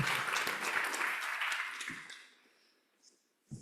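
Applause at a UN Virtual Worlds Day event, a dense burst of clapping that thins and fades out after about two and a half seconds, leaving a few faint scattered sounds.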